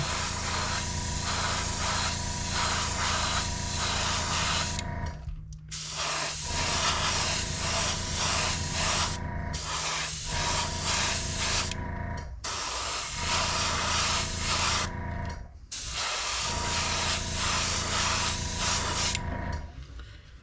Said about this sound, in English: I'm just blowing some air over it to dry it.